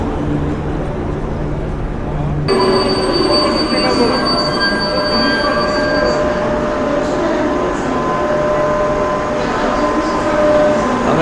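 A Korail express train bound for Busan thunders past at close range, its loud rolling roar overlaid with high, sustained wheel squeals that shift partway through.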